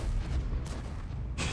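A tank cannon fires in the World of Tanks video game, with a broad burst over a heavy low rumble and a second sharp blast at the end.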